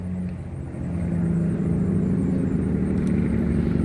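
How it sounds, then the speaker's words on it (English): A truck passing with its Jake brake engaged, a steady loud low rumble that swells and holds from a short distance away. "somebody coming through here with their Jake brake on"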